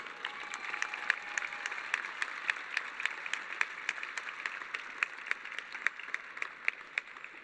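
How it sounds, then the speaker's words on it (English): Steady applause from a graduation ceremony audience honoring student speakers, a dense patter of clapping with a few sharp individual claps standing out, moderately distant and continuous throughout. "Let's give them a round of applause"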